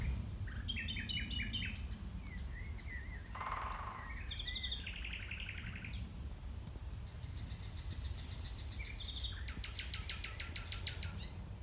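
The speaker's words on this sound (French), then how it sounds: "il y a même un pivert, les oiseaux" Forest birds chirp and trill in short, scattered bursts, including rapid repeated notes from a woodpecker, over a steady low background rumble at a quiet forest bivouac campsite.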